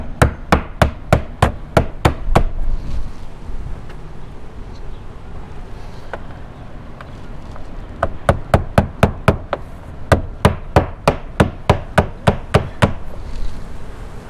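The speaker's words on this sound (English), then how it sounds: "take some finish trim nails that are stainless steel and go ahead and put those in the low spot" Stainless steel finish trim nails are hammered into house siding in quick, loud, evenly spaced strikes, a run of about nine blows, a pause with a couple of light taps, then another brisk series of blows.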